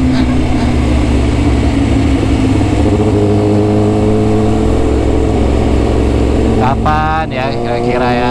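Yamaha R6 motorcycle engine humming steadily at cruising speed in traffic, loud and close throughout, with a brief rise in revs near the end and someone talking over it.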